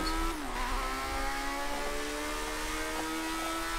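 A car engine in the racing game Project Cars 2, a classic vehicle, drones steadily at high revs with a brief pitch dip as it downshifts into second gear, sustained and moderately loud with no talk over it.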